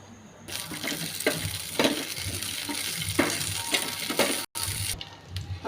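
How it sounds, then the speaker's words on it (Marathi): Green chillies fry in a little oil in a pan with a steady, close sizzle and occasional stirring scrapes, with no voices over them. "हिरवी मिरची भाजण्यासाठी आपण थोडं तेल टाकू"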